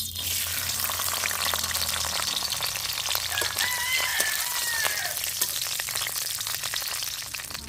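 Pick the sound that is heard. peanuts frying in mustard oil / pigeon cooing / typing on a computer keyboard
peanuts frying in mustard oil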